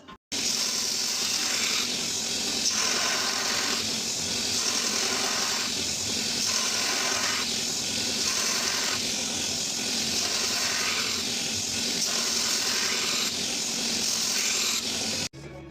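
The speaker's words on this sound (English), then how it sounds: "So we're on to cutting in the bevels now." A belt grinder cuts plunge bevels into a knife blade held against a guide, a steady hissing grind with rhythmic swells roughly every two seconds as the blade passes back and forth, continuous throughout.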